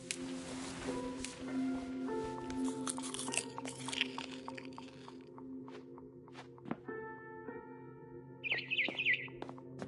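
Faint barn swallow chirps from a video game come in short bursts, the clearest near the end, over a low steady hum and occasional crunching sounds.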